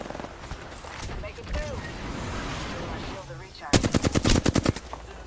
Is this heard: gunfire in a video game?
yes